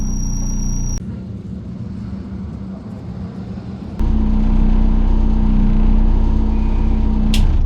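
A race car rolls down the pit lane, its engine a close, steady low rumble that jumps louder about halfway through as the motor picks up, with no talk.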